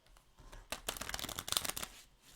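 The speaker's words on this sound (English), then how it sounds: "I'm shuffling cards" Playing cards riffle-shuffled at a table during a board game session, a close crisp flurry of rapid flutters and snaps with a few lighter taps before and after.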